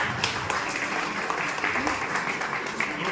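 A hall audience claps steadily during a Constitution Day celebration by a Delhi teachers' federation while the ceremonial lamp lighting goes on, a dense, even patter with voices mixed in.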